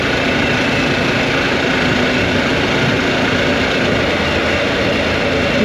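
A Harley-Davidson Pan America motorcycle engine drones steadily while riding, with a continuous loud roar and wind rush and no break.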